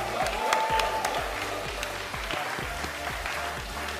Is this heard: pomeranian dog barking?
no